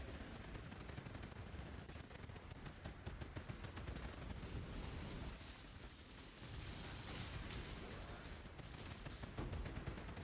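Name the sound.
massive explosions in video game Path of Exile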